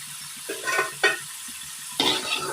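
Raw jackfruit snack pieces frying in hot oil, a soft steady sizzle with three brief bursts of louder crackling as pieces are stirred or added.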